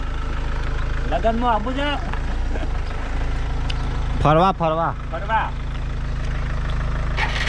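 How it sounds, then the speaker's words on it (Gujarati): A motorbike engine idles and hums steadily as the bike is ridden off from a rural home, with voices speaking briefly over the continuous motor. "તો બાઇક લઈને જાય છે"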